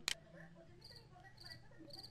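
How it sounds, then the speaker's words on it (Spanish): A computer system sound set to a cricket chirp plays as repeated short high trills in a steady rhythm, fairly quiet, following a sharp click at the start. "ahí se escucha el ruido del grillo"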